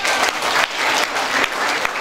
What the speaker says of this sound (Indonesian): Dan tepuk tangan dulu untuk Mbak Alisa